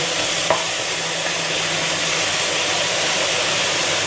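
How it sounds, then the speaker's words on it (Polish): Loud, dense crackling sizzle of homemade potato fries deep-frying in hot oil, steady and close throughout, with one faint knock near the start. "przekładamy do rozgrzanego oleju i będziemy smażyć w głębokim tłuszczu."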